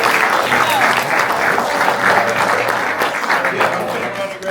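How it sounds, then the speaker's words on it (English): A live audience at a church gathering applauds steadily, a dense continuous wash of clapping with a few cheers mixed in, holding loud and even throughout. "Let's give them a clap, y'all."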